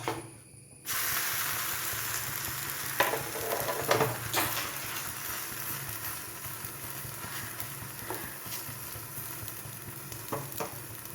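Carrot dosa batter frying on a hot pan gives a steady close sizzle and hiss throughout, with a few light scraping or tapping touches along the way.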